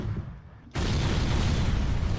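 A weapon fires in the FTL spaceship game: quiet hum, then a sudden loud boom at about three-quarters of a second that holds as a sustained roar to the end.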